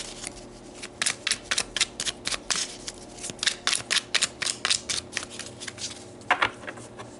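A tarot card deck is shuffled close up. Crisp riffles and card slaps come in quick bursts, one after another, in a quiet room with no talking.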